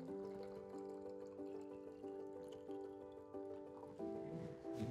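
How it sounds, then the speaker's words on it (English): Water pours steadily into an empty bottle on a sensor prototyping kit, a continuous trickling stream under strong steady tonal hum, with the pitch of the fill shifting slightly as the level rises. "I have an empty bottle here that I'm now filling with water"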